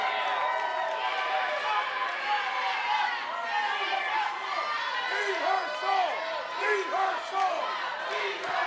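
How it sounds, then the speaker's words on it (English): A wrestling crowd at a Rocky Mountain Pro dog collar match chanting in rhythm, a loud, steady sustained roar of many voices with repeated shouted syllables filling the arena. "You hear the crowd yelling, eat her soul."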